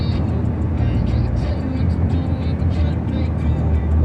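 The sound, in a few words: semi trucks passing on the highway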